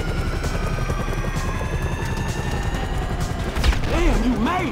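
A helicopter in the video game GTA 5 drones steadily throughout, loud and continuous, with a shouted voice and a rising whine near the end.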